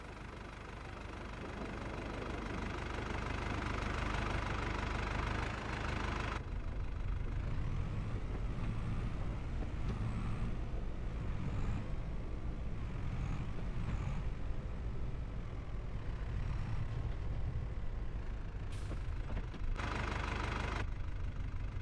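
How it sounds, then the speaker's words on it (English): An old Xylon tractor idles after a jump-start in Farming Simulator 25, a steady low diesel rumble with faint knocking that runs throughout, plus a short air-brake hiss near the end and no speech. "The engine's running on the old Xylon that we just jump-started."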